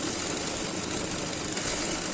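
A sewing machine stitching the side seams of a nighty whirs in a steady, fast, unbroken hum, close and even for the whole stretch with no talk.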